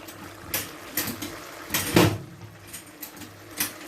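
Several sharp knocks and clatters in a home kitchen while stir fry sauce is made, spaced irregularly over a few seconds, one louder thump in the middle, with low background hum.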